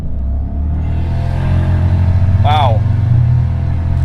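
A 650 hp big-turbo V8 Jaguar XJ with an iron-block LQ4 LS engine pulls hard under full throttle, its deep steady rumble loud and close throughout while a voice exclaims over it.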